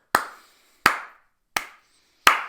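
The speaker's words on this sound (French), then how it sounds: "je vais applaudir fort et de manière ample" Four loud, sharp hand claps spaced evenly about two-thirds of a second apart, each a crisp isolated slap with a brief decay and silence between them.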